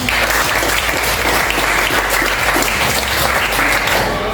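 A classroom of students applauds in a dense, steady burst of many hands clapping together, loud and close, lasting a few seconds without a break.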